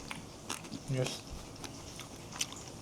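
Crunchy fried fish being bitten and chewed up close, with a few soft crunches and mouth sounds under faint background voices.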